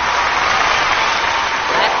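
Applause from a TV game show studio audience for the aunties and ladies taking part, a dense, loud, steady clapping that fills the whole moment without letup.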